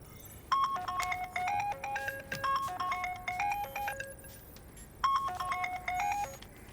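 A phone ringtone plays a bright electronic melody, loud and near, then pauses briefly before the tune starts over again.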